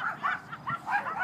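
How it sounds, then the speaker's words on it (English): A dog gives a quick burst of three or four short, yipping barks close by, rising and falling in pitch over about a second. "Why are you barking?"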